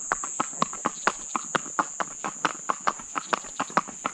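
Horse hooves clip-clop in a steady walking rhythm, about four sharp strikes per second, close and distinct over a constant high-pitched hum.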